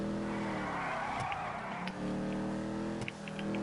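A car in GTA V drives with its engine droning steadily while the tires squeal and skid through a turn, loud and close, with a few brief knocks along the way.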